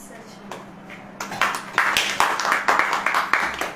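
A church congregation claps in rhythm, a run of sharp, regular beats that start after a quieter moment and grow louder, with voices under them.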